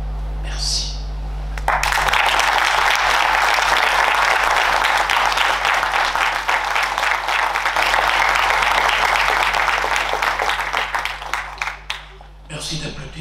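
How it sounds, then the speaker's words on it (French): After a lecture by a priest in Angers, the audience breaks into sustained, dense applause for about ten seconds before it fades, with someone speaking briefly just before and after. "Merci d'applaudir"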